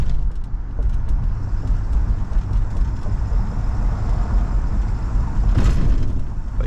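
A 1968 Chevrolet Impala rolls along with a low road rumble inside the cabin, then gives a sharp thump as it crosses a railroad track.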